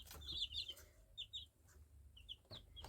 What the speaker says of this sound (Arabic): جبت كتاكيت بيضة، هقول لكم ازاي تربيها والعلاج بتاعها